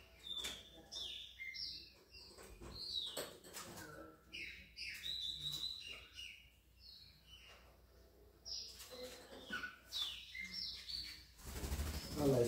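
A Brazilian blackbird (pássaro preto) in its cage gives repeated bright chirps and whistled calls with occasional wing flaps and rustling, close by, fairly steady over several seconds, ending with a louder burst of flapping.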